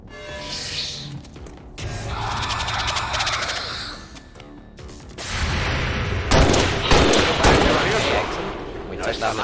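Gunfire in XCOM 2: a weapon shot and impact followed by a longer, dense burst of loud firing and crashing, with a voice talking during parts of it.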